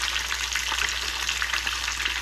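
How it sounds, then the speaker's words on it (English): Kole fish pieces frying in a deep fryer of hot oil, giving a steady close bubbling sizzle with crackles throughout, with no talking. "So I'm gonna throw the Kole in the fryer and check this out."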